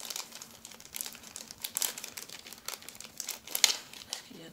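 Small gift sachet being opened by hand, its plastic packaging crinkling and rustling in a steady run of close, irregular crackles, with a few sharper snaps near the end and no talking.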